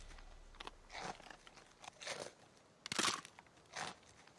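Crunchy bites into an apple spice muffin in a cartoon, several crisp crunching bursts spaced apart, quiet and close, with no talk.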